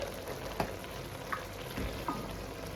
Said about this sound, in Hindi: अब मैं इसके अंदर ऐड करने लगी हूँ कुकिंग ऑयल